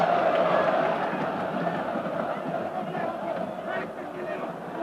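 A football stadium crowd at a Galatasaray versus Manchester United Champions League match in 1993/94, a broad, roaring cheer that swells at the start and holds steady, with commentary talk running over it.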